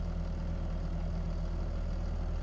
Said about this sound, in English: And it's smooth idling.